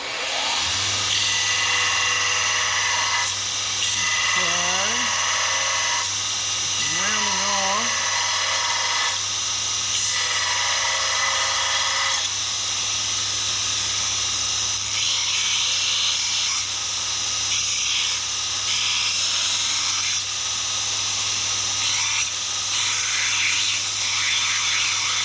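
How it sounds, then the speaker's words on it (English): A small grinder working metal on a Kubota SVL quick attach, giving a loud, steady high-pitched whine that runs unbroken through the whole stretch over a low constant hum. "I'll show you guys my little grinder"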